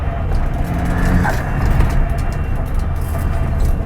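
A 21-year-old classic Vauxhall Nova being driven, its engine droning steadily with road and cabin rumble throughout, loud and close from inside the car.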